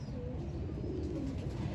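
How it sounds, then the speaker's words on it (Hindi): Teddy breed pigeon cooing close by, a soft low continuous burble lasting under two seconds over faint background hiss. "टेडी ब्रीड का बहुत अच्छा कबूतर आपको दिखाने लगे हैं"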